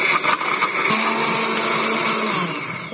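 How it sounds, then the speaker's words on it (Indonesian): A kitchen blender whirs steadily while grinding a spice paste for chicken noodles, loud and close throughout with a constant buzzing drone and no speech. "di sini saya akan blender bumbunya"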